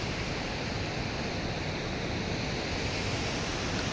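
Ethipothala waterfall gives off a steady, dense roar of falling water that stays even and unbroken throughout, with no voices.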